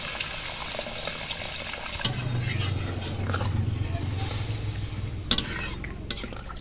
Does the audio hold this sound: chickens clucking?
no